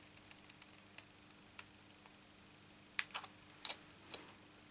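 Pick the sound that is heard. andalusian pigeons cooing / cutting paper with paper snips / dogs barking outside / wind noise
cutting paper with paper snips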